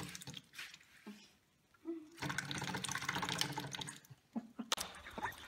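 A duck fitted with a composite beak is given water to drink, producing soft close-up splashing and dabbling sounds in quick bursts, broken by short quiet gaps.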